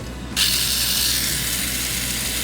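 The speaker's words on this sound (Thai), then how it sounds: "ตอนนี้ครับก็ใส่มอเตอร์ท็อกจูนไปเรียบร้อยแล้ว เดี๋ยวลองเปิดให้ฟัง" A small torque-tuned electric toy car motor whirs up abruptly and keeps running at a steady, high-pitched, loud buzz close by.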